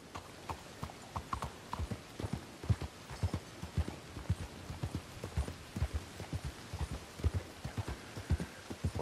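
Steady clip-clop of horse hooves trotting in Red Dead Redemption 2, loud and close, with a quick regular rhythm and faint background noise.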